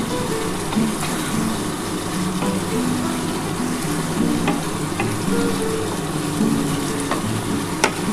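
Duck egg curry masala frying in oil in a pan, a loud continuous sizzle and bubbling with occasional stirring clicks, up close and without talk.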